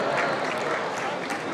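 An audience at a Halloween Horror Nights presentation cheering and applauding: a dense, continuous wash of clapping and crowd noise, fairly loud and steady throughout the short moment.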